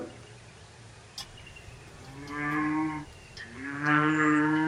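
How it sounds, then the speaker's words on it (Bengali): A cow moos twice in long, low, drawn-out calls against a steady background hiss, fairly near. "গরুটা তো ডেকেই চলেছে,"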